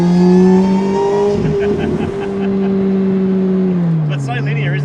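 A modified Lotus with a supercharged 1.8-litre four-cylinder engine sings a loud, high, sustained supercharger whine that climbs and falls with the revs, with people talking in the car.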